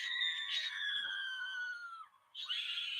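A novelty horror sweater lets out a loud, shrill electronic scream that wavers and slides downward, breaks off briefly, then shrieks again near the end.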